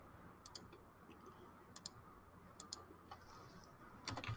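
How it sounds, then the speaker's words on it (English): Keys pressed on a TI Nspire calculator, faint light clicks in a few scattered pairs and singles over a quiet room hiss, ending with a short cluster of taps. "So let's type that answer."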